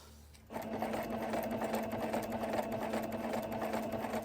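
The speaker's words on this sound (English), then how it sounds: "take all of them to my sewing machine now and sew them up." A sewing machine stitching through coffee filter paper starts up and runs steadily, its rapid mechanical stitching whir continuing without pause.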